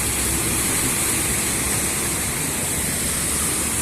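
Rainwater rushing through a flooded street on vulikytsia Kahamlyka in Poltava after a spring rain, a steady, loud broadband wash of flowing water that holds unbroken throughout with no voices.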